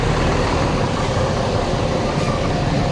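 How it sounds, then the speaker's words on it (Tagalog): Heavy road traffic with trucks and buses makes a dense, continuous engine rumble that stays loud and steady throughout, with no break and no clear voices. "sobrang traffic, naglakad na po kami."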